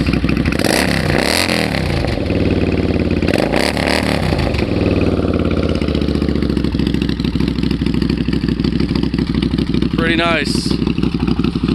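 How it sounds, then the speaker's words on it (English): A 1999 Suzuki Marauder 800 motorcycle idles loudly and close, its engine twice revving up and settling back in rising-and-falling swells, then chugging steadily as someone speaks briefly over it. "give it a little gas"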